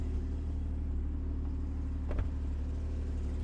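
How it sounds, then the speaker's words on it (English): A 2016 Porsche Boxster Black Edition idles with a steady, low exhaust rumble, close and constant, with one brief click partway through and no voices. "I'll leave it running so we can hear the exhaust note as well."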